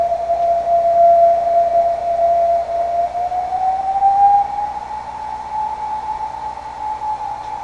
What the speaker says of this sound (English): it's that same exact sound that Billy Myers recorded